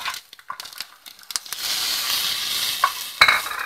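Garlic and green chillies frying in a pan, first a few scrapes and stirs, then a steady close hiss of sizzling oil, broken by sharp stirring clatters near the end.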